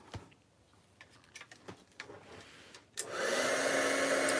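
A heat tool switches on partway through, giving a loud, steady blast of hot air for heat setting, after a stretch of quiet ticking and small handling clicks.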